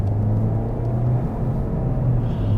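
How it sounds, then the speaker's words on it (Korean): Steady low engine hum and road rumble inside a Kia K5 2.0 while driving, continuous and fairly loud with no talking. "약간 엔진 소리도 좀 더 크네요."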